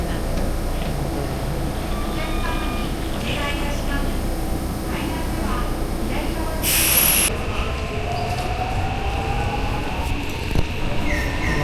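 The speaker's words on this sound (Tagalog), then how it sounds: "Hintay kami ng tren." A train arriving at a station in Osaka, its steady rolling rumble and faint wheel squeals running beneath nearby talking, with a brief bright burst partway through.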